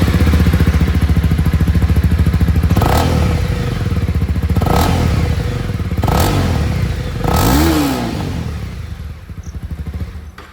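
A Honda CB300R motorcycle's exhaust idles with a steady close-up thrum, broken by three or four quick throttle blips that rise and fall. No one speaks.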